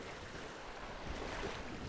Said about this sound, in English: We got a lot of wind, guys, right in our face.